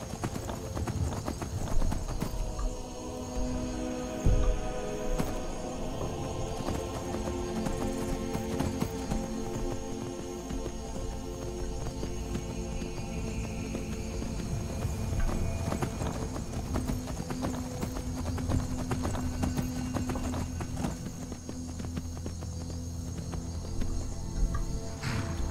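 Steady clip-clop of horse hooves continues throughout, mixed with ambient background noise and a faint insect-like hum, in the video game The Elder Scrolls V: Skyrim.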